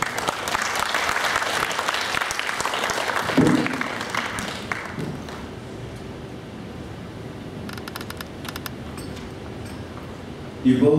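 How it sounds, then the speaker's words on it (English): An audience at a business forum claps for a speaker, with dense applause for about five seconds that then thins to scattered claps and room noise, and voices come in over it near the end. "How about another round of applause for our speaker?"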